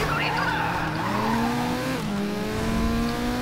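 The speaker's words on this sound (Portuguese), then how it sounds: "Ih, bati no Renan" Race cars in the GRID racing video game, engines roaring with continuous tire squeal as a car skids and crashes, loud and sustained throughout.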